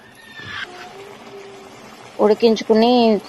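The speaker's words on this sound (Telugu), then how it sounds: "వాటర్ వేసుకుని కలుపుకుంటున్నాను." Water is poured into a pan of drumstick milk curry as a brief splashy pour at the start, followed by a quiet simmer and then someone talking.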